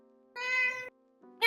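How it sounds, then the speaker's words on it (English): A cat gives a clear, close meow, followed by the start of a second meow moments later, in a quiet room. "Sorry about the cat."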